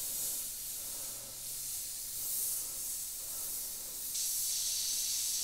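An Iwata HP.TRN2 airbrush sprays a heavy coat of paint, a steady, soft, close hiss of air that swells slightly and brightens toward the end, with no voices.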